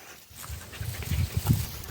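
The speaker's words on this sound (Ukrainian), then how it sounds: "Пес барбос охотничий." A hunting dog pants in quick, rhythmic breaths close by, soft and steady over a quiet outdoor background.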